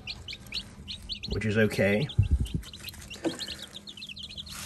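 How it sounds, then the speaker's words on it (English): Cracker chicks in a small aquarium brooder keep up a steady run of high, thin peeping chirps. A voice talks over them partway through. "in this little brooder aquarium, I've got 9 pure cracker biddies that I incubated"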